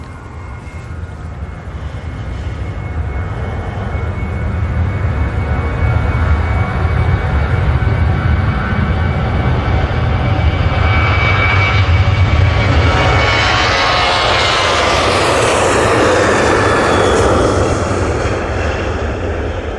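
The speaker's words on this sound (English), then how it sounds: "TUI on the roll. Off to Rhodes using the 737-800." A TUI Boeing 737-800 airliner takes off from Manchester Airport bound for Rhodes, its engine roar building loud and close, then a rising, sweeping jet hiss as it passes overhead and slowly recedes.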